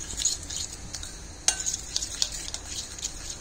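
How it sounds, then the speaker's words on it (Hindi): A sauce for restaurant-style chilli mushroom is stirred in a pan after aromat powder goes in, with a spoon scraping and clinking against the metal over a light sizzle in short, uneven bursts. "हम इस सॉस के अंदर अब थोड़ा सा एरोमेट पाउडर 1/2 टेबल स्पून ये भी डाल लेंगे, इसको मिक्स कर देते हैं।"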